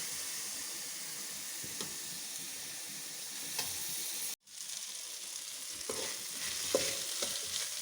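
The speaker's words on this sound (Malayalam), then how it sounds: "വെളിച്ചെണ്ണ ഒഴിച്ചാണ് ഞാൻ ഫ്രൈ ചെയ്യുന്നത്." Onions, tomato and carrot fry in coconut oil, a constant close sizzle with occasional stirring scrapes; partway through the sound cuts out for an instant, then the frying resumes slightly louder.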